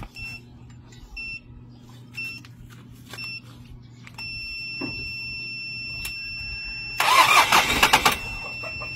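A car engine cranks on a jump starter but fails to catch. Short electronic beeps repeat and a steady tone hums before a loud burst of cranking near the end.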